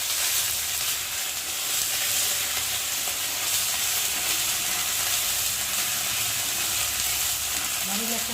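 Ginger and cumin paste frying in a pan for a chana dal dish, a steady close sizzle throughout with faint scraping of stirring.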